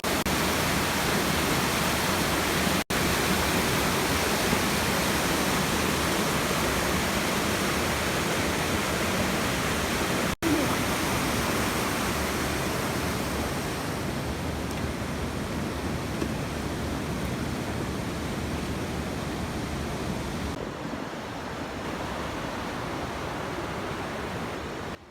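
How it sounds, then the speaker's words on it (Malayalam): Rushing water at Adyanpara waterfall on the Kanjirappuzha roars in a dense, unbroken wash, loud and steady for the whole stretch, easing slightly near the end. "ബൈക്കിൽ പോയിക്കൊണ്ടിരിക്കുമ്പോൾ തന്നെ നമുക്ക് വെള്ളത്തിൻ്റെ ശബ്ദം കേൾക്കാം കേട്ടോ"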